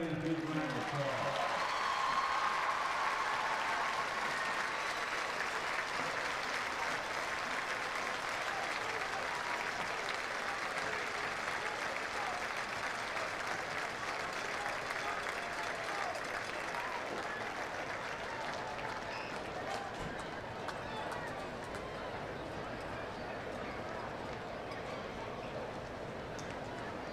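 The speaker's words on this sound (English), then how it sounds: "Let's give each other a big round of applause." Crowd applause at a varsity high school football game between Denison and Sherman, a broad, steady wash of clapping from a distant stadium audience that holds for nearly half a minute and thins slightly toward the end.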